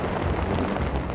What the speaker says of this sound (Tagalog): biglang bumuhos ang ulan